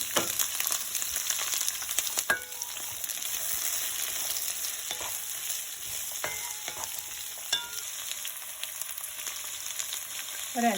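Sliced onions fry in a pan for chilli chicken, a steady bright sizzle with a few sharp utensil clicks and scrapes, close and continuous, with no talking.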